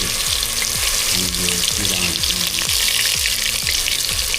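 Raw jackfruit pieces frying in hot oil, a loud, steady, close sizzle and crackle that fills the whole stretch without letting up.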